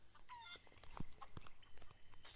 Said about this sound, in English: Oh, look at chicken.